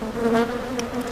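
Honeybees buzzing around an open hive, a steady droning hum with slight swells as individual bees pass close by.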